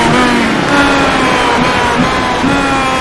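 A race car engine drones loud and continuous during a short-track restart as the driver downshifts through the corkscrew, the pitch shifting slightly as the revs change.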